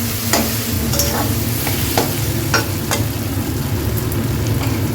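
Ginger and green chilli paste fries in a hot pan with a continuous sizzle, while a spatula scrapes and taps against the pan every second or so, nearby and with no talking.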